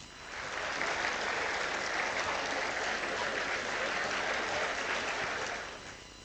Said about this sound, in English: I request everyone to please give them a big round of applause.